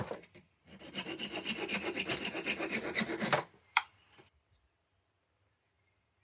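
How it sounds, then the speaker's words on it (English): A hacksaw rasps back and forth in quick, steady strokes for a few seconds cutting the head off a brad nail, then stops, followed by a small clink and quiet. "Cut the head of the brad nail off with a hacksaw."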